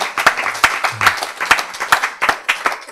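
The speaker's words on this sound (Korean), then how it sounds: "박수 한번 보내주세요" A lecture audience claps steadily for a few seconds, a close, dense burst of applause without talk.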